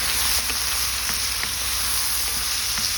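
String beans (bichuelas) sautéing in a frying pan, a steady close sizzle and hiss with soft scraping clicks as the beans are stirred, no talking.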